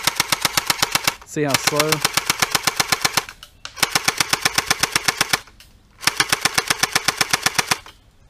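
Airsoft BB guns firing in rapid automatic bursts, sharp evenly spaced clicks in three long strings separated by short pauses, with a person speaking briefly between bursts.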